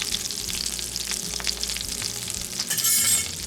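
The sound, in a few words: flour added to butter sizzling in frying pan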